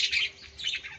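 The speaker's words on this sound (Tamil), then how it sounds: "நம்ம ஒரு சின்ன குருவி கூண்டு நம்மகிட்ட இருக்குது பாருங்க" Small birds in a cage in a garden, chirping and squawking in quick, bright bursts close by, with no voices.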